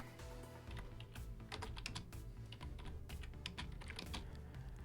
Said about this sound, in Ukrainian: В кінці рядка пишемо двокрапку та натискаємо Enter.